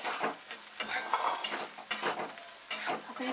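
Onion, turmeric and garlic paste with dry coconut and ginger frying in a pan while a spoon stirs it, giving repeated scraping strokes over a steady close sizzle, with no talking.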